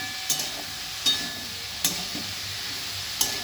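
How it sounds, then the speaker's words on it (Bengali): Cauliflower and potato curry with turmeric and salt sizzles steadily in a pan. A spoon scrapes through it in four sharp, spaced strokes. "দেখো আমি আবার ভাজা ভাজা ভালো করে করছি"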